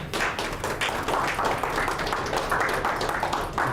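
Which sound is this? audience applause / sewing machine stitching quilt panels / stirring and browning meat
audience applause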